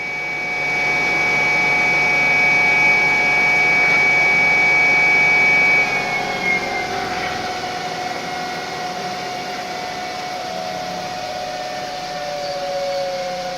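A hyper drive motor on a TI controller spins with a steady, loud electric whine, its tone holding level and then sliding lower and quieter partway through before settling into a softer hum.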